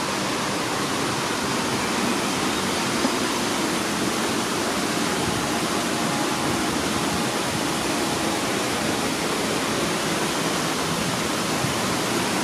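Water pours down the Orbaneja del Castillo waterfall in Burgos, Spain, in a constant, loud, dense roar with no breaks and no voices.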